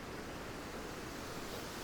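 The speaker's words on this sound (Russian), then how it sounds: "Это Батарейский водопад, который впадает в Северный Ледовитый океан." Batareysky waterfall on the Kola Peninsula near Teriberka pours into the Arctic Ocean with a steady, broad rushing roar, unbroken and with no voices.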